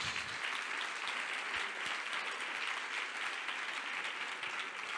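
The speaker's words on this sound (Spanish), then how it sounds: "Dele el aplauso a Jesús" Steady applause from a church congregation, dense and sustained throughout, heard from some distance and fairly soft.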